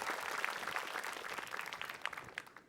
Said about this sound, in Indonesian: Tepuk tangan dong buat Ustazah Oki.